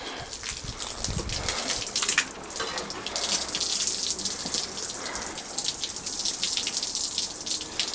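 A hose pipe with no nozzle runs water steadily over a car's diesel particulate filter during a rinse, a continuous close splashing gush with a brief louder burst early on.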